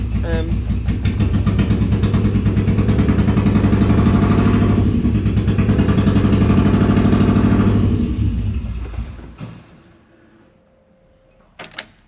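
A long-dormant Ford Fiesta engine runs roughly, a loud, uneven mechanical drone with a lumpy pulse that fades and stops near the end, followed by a couple of sharp knocks.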